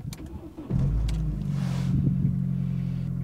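A scrap-value car's engine cranks and catches, then settles into a steady, close idle rumble with a slight exhaust blow, loud and alone without talk.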